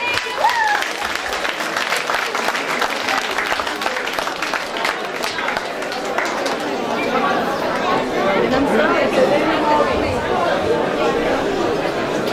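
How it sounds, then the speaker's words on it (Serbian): Audience applause at an outdoor flower and honey festival as award recipients come forward, dense sustained clapping mixed with crowd chatter and voices throughout. "Veliki aplauz."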